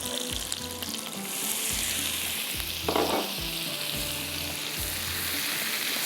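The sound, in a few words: flour cooking in butter and oil in a pan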